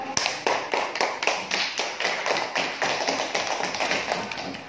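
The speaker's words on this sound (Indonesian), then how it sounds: "tepuk tangan buat kelompok 1" A classroom of students claps for the first group, a quick run of sharp, evenly spaced hand claps at close range, steady and brisk throughout.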